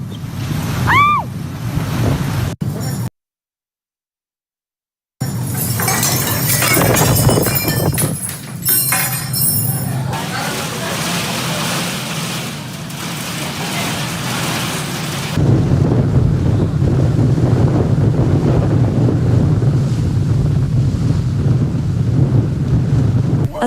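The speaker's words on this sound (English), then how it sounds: "Wind, a relentless force of nature, is the most terrifying element of a storm." Storm wind gusts during a violent storm over Sicily, Italy, with wind speeds reported near 203 km/h, roaring as a loud, continuous broadband rush with surging buffeting, broken by a brief dropout and growing heavier toward the end.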